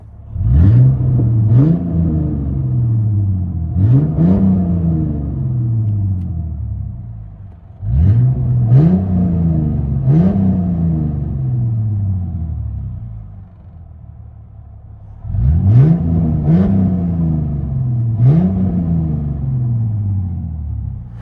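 From inside the cabin, a 2008 Ford Mustang 4.0L V6 on true dual straight pipes is blipped in pairs and triples of quick revs, each rising and falling over a deep droning idle, loud and without talk.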